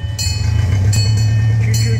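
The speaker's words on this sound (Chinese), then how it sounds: "森林小火车，神仙的森林小火车" A miniature forest train runs along its rails, a loud steady rumble with bright metallic squeals and clatter bursting in at intervals, close by, with voices mixed in.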